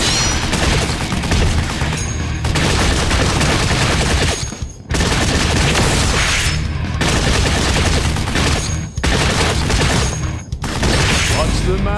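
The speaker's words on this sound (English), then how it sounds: "Machine gun." Rapid machine gun fire from Time Crisis 5 rattles almost nonstop in loud dense bursts, broken by a few short pauses.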